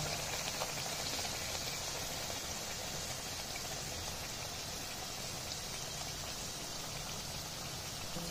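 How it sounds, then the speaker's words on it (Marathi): Tomato puris frying in hot oil make a steady, dense crackling sizzle that holds evenly throughout at moderate volume, with no voices over it. "अशी छान लालसर होऊ द्यायची। छान कलर आलेला आहे, या प्रकारे तळून घ्यायच्या।"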